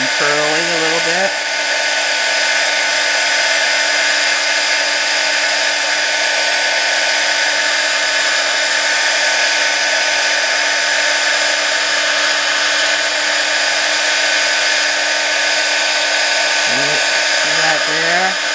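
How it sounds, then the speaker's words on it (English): A heat tool drying stamping ink on a paper card blows with a steady, loud, constant whir that runs almost without change throughout, with brief tonal shifts at the start and end as it switches on and off. "I'm just going to heat this up. That will dry our inks."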